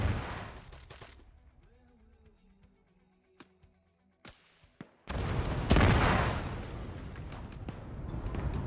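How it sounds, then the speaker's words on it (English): Artillery strikes in the military game Arma 3 land as heavy booming explosions. Sharp distant cracks come first, then a loud sustained roar of detonations and rumble. "Secondary explosion."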